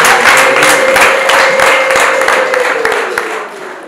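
Steady applause from a wedding crowd, dense and loud throughout, with scattered cheers and voices mixed in, fading slightly toward the end.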